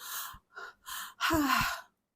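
A voice makes a series of breathy exhalations, three short airy puffs followed by a longer voiced sighing ha.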